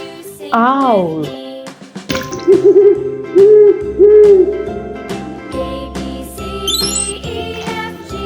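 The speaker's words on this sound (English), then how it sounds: "Owl." An owl gives a run of soft, evenly spaced hoots, loud and near, set among bright chimes and a light jingly tune.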